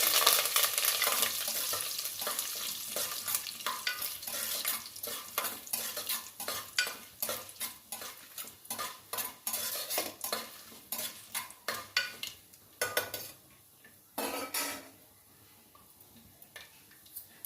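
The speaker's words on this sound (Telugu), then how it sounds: "కొంచెం ఎండుమిర్చి ఒక రెండు కరేపాకు ఇలా వేసుకోవాలి" Dried red chillies and curry leaves frying in hot oil, a close crackling sizzle with a quick, steady run of spoon clicks against the pan that thins out and grows quieter near the end, with no speech.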